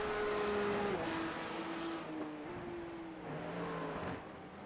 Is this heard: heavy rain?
no